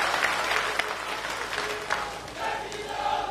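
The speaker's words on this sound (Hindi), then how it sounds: "जोरदार तालियों के साथ देश के प्रधानमंत्री।" Crowd applauding at an outdoor political rally in Haroli, Una district, Himachal Pradesh, a steady dense wash of clapping over about three seconds with a faint voice over the loudspeakers near the end.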